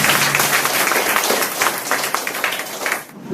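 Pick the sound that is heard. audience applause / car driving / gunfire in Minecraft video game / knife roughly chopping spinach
audience applause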